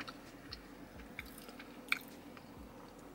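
Crunchy french fries from Bojangles are chewed close to the mic, a few soft, faint crunching bites spaced over a quiet background.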